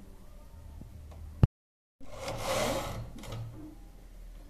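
A knitting machine works red woolen yarn into ladies' booties: a sharp click, a brief silent gap, then one whirring, rubbing carriage pass that swells and fades, heard close with no talk.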